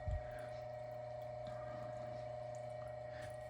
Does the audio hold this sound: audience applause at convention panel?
no